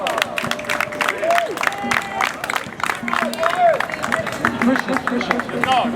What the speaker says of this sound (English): Give it up for Romeo Neubauer